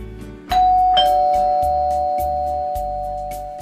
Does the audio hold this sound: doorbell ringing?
yes